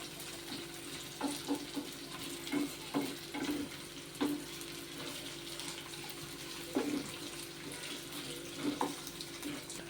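Drumsticks (moringa pods) frying in hot oil in a pan, a steady sizzle with scattered pops and clinks of stirring, quiet and close with no talk.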